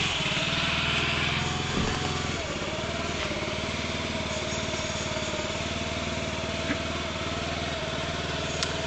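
A 2009 Honda Metropolitan scooter's small engine cranks into life and settles into a steady, buzzy idle, a close, even putter that carries on without a break.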